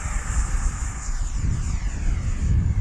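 Arrows Marlin RC model plane flying on a windy day, its engine a steady mid-distance drone with a faint pitch sweep, buffeted by low wind rumble throughout.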